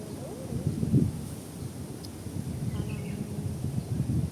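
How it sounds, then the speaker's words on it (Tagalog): Steady outdoor wind rushing across the microphone, a low continuous roar with faint rustling and a few distant bird chirps. "Tapos mahangin siya."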